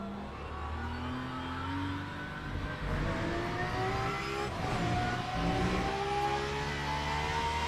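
Porsche GT3 race car in Le Mans Ultimate, its engine revving up through the gears with rising, sliding pitch and a brief shift dip, loud and continuous from start to end.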